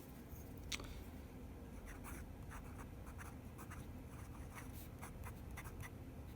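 A Jinhao fountain pen writes on paper in a quiet room, making soft, close scratchy strokes in a continuous, irregular rhythm.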